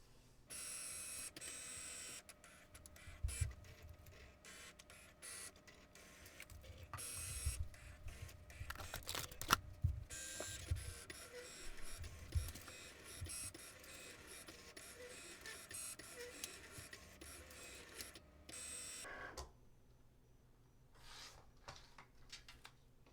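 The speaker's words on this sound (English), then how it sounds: "send it through the Cricut machine," A Cricut Explore cutting machine running a print-then-cut job on a printed sheet, with a steady motorized whir and irregular scraping, ticking carriage movements for about twenty seconds, close up, with no speech.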